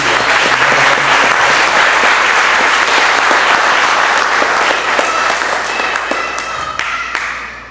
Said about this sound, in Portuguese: Vamos aplaudir ao Senhor pela vida do Senhor.